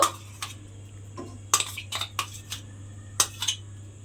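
A spoon scrapes shrimp and banana flower paste into a bowl, giving a series of sharp metallic clinks and scrapes in irregular bursts over a quiet, humming background.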